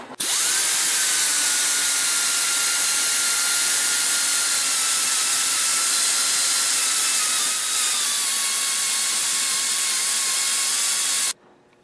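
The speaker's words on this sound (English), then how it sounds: "What I'm using today is my air die grinder, as you can see, and I'm using a small flat disc." Air die grinder fitted with a small flat disc lightly sanding the edges of a snowblower auger gear shaft, a steady high-pitched whine running unbroken for about eleven seconds at close range, then cutting off abruptly.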